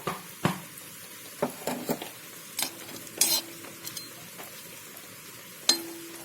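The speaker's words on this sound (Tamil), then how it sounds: "நெய் விட்டு முந்திரி பருப்பை வறுத்து எடுத்து வச்சுக்கலாம்" Cashew nuts fry in a little ghee for mango kesari, a low sizzle broken by repeated spoon scrapes and metallic clinks against the pan, close and moderately loud.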